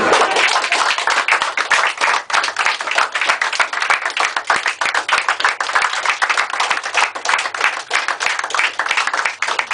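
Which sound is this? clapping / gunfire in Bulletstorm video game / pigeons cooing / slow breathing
clapping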